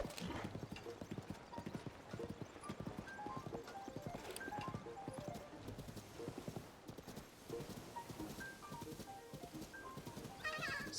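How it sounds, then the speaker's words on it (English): Horse hooves clip-clop steadily at a walking rhythm while riding horseback in a video game, with occasional whinnies and light game ambience, continuous and fairly close throughout. "There's just something so soothing about horseback riding in games."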